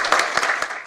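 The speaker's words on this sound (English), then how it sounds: "You can clap, it's okay." Short burst of clapping from a small group at a sports media news conference, a few close claps heard alone.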